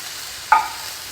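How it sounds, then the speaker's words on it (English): Half a cup of water poured into a hot pan of ham grease gives a single sharp hiss that bursts and then fades into a quiet, short sizzle. "now I'm going to add a half a cup of water. And this is going to kind of sizzle a little bit"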